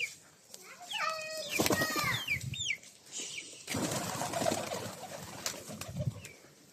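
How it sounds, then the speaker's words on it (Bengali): Pigeons gathering to be fed, with soft cooing and bursts of flapping wings close by, mixed with sharp bird calls and some background chatter and movement. "এই দেখেন আমি কবুতরকে খাবার দিতেছি,"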